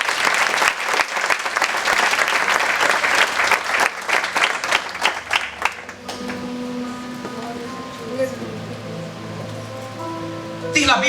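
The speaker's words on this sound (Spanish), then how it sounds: "Vamos a aplaudir al Señor en esta noche." Congregation applauds the Lord during an evening church service, a loud, dense roar of clapping for about six seconds before fading into quieter voices and background sound.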